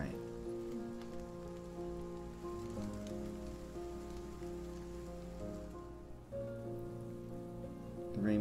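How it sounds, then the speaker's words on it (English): Steady rain falling on a city street, a continuous soft hiss beneath a sustained, prominent musical score that runs throughout. "The rain brings with it a blossoming of umbrellas."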